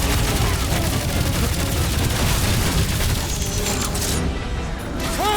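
Dense rapid gunfire and booming impacts from the video game Guardians of the Galaxy, loud and continuous, mixed with mechanical clatter, with a voice briefly heard underneath.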